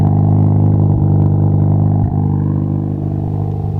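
A 1991 Mazda Savannah RX-7 big turbo race car with no muffler idles very loud and close, a deep, rough rotary drone with a couple of brief throttle blips rising out of the steady rumble.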